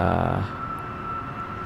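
Widebody airliner engines in the flight simulator Blackbox Widebody give a steady, droning hum with a fixed tone. A brief louder rumble opens it before it settles into a constant background drone.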